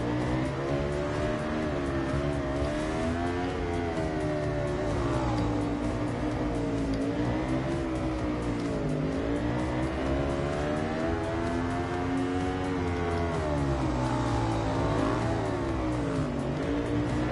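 An Aprilia motorcycle engine in the racing video game Ride 2 drones loudly and continuously, its pitch swelling and dipping as the bike speeds up and slows, with no talking.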